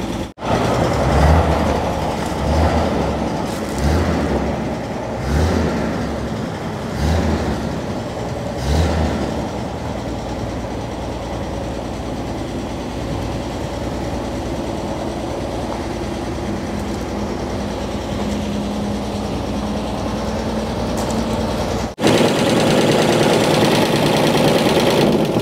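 A 1948 Chevy truck engine, abandoned for 58 years, idles loud and close with a steady rough rumble and periodic knocking thumps, settling into an even drone before a brief cutoff and restart near the end.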